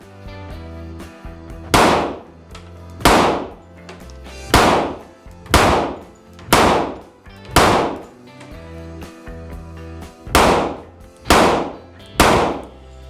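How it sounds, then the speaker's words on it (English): Glock 20 pistol fired one-handed, about nine loud, sharp shots spaced roughly evenly over thirteen seconds, each one ringing out into a brief decay, recorded close up with no talking. "Let's do a little one-handed shooting."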